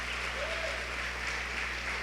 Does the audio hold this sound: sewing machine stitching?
no